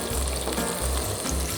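Eggplant pieces fry in olive oil with a loud, steady sizzle and bubbling that pulses slightly, and no voices are heard.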